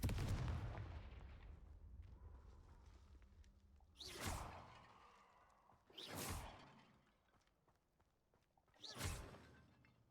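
Confringo fire-blasting spell cast in Hogwarts Legacy: three sharp, booming whooshes a couple of seconds apart, each cutting loudly through a low, rumbling game backdrop.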